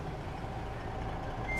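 Truck reversing in American Truck Simulator, faint repeated backup beeps over a low engine rumble, steady and fairly quiet throughout.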